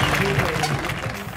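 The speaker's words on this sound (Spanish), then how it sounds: "fuerte aplauso para Rider español" Crowd applause for a Spanish rider after a fall at the UCI Trials World Championships in Vic, Spain: a dense, steady wash of clapping with a voice talking over it throughout.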